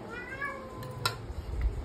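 A small kitten meows twice, faint gliding cries against low indoor background noise with a soft thump near the end.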